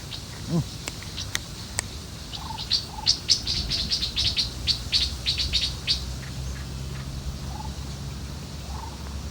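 An eight-month-old ground decoy bird calls during bird trapping outdoors, giving bursts of rapid, sharp chirping notes in fairly close, repeated runs over a low background hum.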